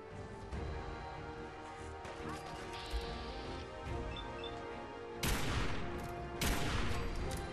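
Gunfire in the video game Fallout 4: dense bursts of shots and crashing impacts mixed with game music and sound, with two sharper loud volleys near the end.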